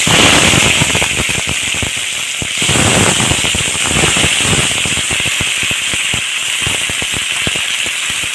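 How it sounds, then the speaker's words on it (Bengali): Cut vegetables hitting hot oil on a home Bengali kitchen stove, producing a loud, dense crackling sizzle with rapid popping spatters that continue steadily throughout. "হ্যাঁ, সবজি কাটা দিয়ে দিই"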